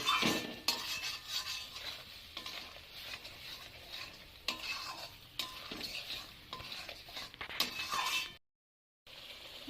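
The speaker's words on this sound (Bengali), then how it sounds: "এবার আমি ভালোভাবে মশলাটা কষিয়ে নেব।" Ground spice paste with poppy seeds frying in a pan as a spatula scrapes and stirs it repeatedly, bringing a light sizzle and utensil clinks, with a brief moment of silence near the end.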